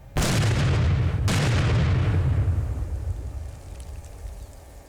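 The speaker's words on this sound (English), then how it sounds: "It worked. Miss Marple's mine is destroyed." A landmine in a minefield destroyed by controlled detonation: a sudden loud blast followed by a second burst a second later, then a long rumbling decay fading over several seconds, heard from a distance with no voices.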